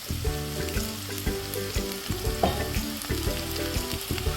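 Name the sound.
onions and curry leaves frying in hot oil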